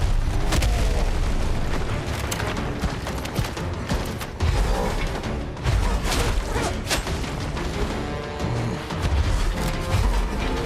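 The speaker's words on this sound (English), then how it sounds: "Grenades, grenades." Repeated grenade blasts rumble through a chaotic video game battle, heavy booms and crashes stacking up densely and loudly over a constant roar of combat noise with no gaps.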